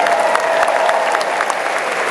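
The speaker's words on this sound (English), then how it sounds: "A nice round of applause for Steele." Steady crowd applause at an outdoor jousting show, greeting Steele, a former mounted police horse now working as a war horse, with a dense wash of clapping from many spectators throughout.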